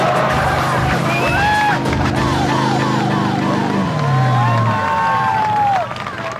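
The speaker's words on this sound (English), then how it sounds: "You can hear the crowd so clear when you're out there riding." Crowd at a wakeboard competition cheering and shouting, with whistles and calls rising over a steady outdoor roar and a low engine hum, fading slightly near the end.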